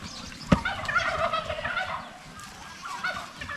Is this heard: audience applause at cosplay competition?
no